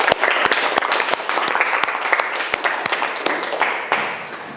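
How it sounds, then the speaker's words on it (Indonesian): Students in a high school agribusiness crop-science class applaud together after group discussion work: dense, steady clapping from the whole room, close and loud, fading slightly toward the end with no talk over it. "Tepuk tangan untuk kita semua."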